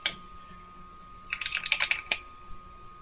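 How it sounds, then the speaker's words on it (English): Keys on a TMX-1795 being pressed at random during its text entry demo, a quick irregular burst of close, light key clicks after a short quiet start, with no talking. "I'm just randomly pushing keys."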